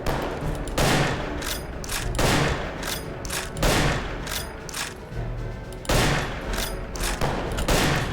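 Gunfire in a World War II shooter video game, repeated sharp bursts of rifle and machine-gun shots with booming impacts, arriving in clusters every second or so, loud and close.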